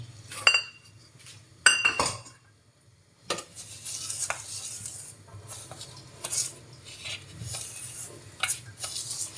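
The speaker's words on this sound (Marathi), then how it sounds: "चांगलं मिक्स करायचं" Rava and curd appe batter being mixed in a bowl, with close, irregular scraping and clinking of a spoon against the sides, sharp knocks in between, continuing for several seconds without talk.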